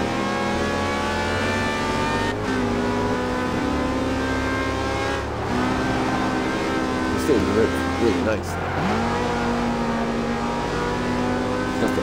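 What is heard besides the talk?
car engine revving in the video game Forza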